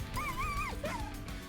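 A dog yips and whimpers in the video game Monster Train 2, a short rising and falling whine over a low background hum, fairly faint and heard without speech.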